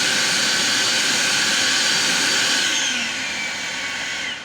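An EGO cordless leaf blower roars at full boost, a loud steady rushing whoosh with a high whine, easing slightly near the end.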